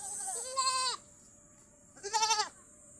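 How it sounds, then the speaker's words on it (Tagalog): An old goat bleats twice outdoors near Laguna de Bay, each call a loud, wavering nasal cry of about half a second, close by, separated by a brief quiet gap. "Ito, matanda na tong kambing."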